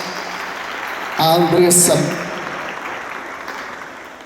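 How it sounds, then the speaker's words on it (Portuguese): Applause from a congress audience swells briefly in the middle, over a low room hum, while a speaker's voice carries on before and through it. "E nós cumprimentamos com uma salva de palmas"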